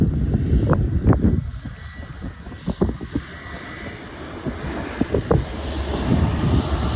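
A fixed-wing airplane comes in for a landing, giving a steady, fairly close broadband engine roar with low rumbling thumps and bumps throughout, and no voices.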